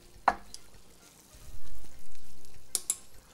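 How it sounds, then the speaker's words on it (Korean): Fried tofu pouches are blanched in a pot of boiling water for tofu sushi, giving soft bubbling and a light sizzle with a few sharp clinks of a utensil, close by and without talking. "유부를 끓는 물에 넣어주고요, 딱 30초 정도 부풀어 오르면 끝납니다"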